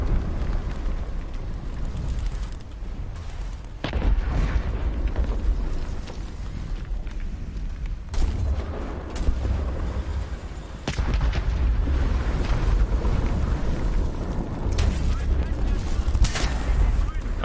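A tank main gun fires an APCR round in the War Thunder tank combat game, with heavy booming blasts and rumbling battle noise. The sound is loud and dense, and several sharp onsets recur through a continuous din.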